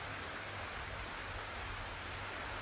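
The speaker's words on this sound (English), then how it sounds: "allow the sound of the rain to wash away the visualization" Steady rain falls in an even, hissing wash, soft and continuous with a low rumble beneath it, during a meditation session with no voices.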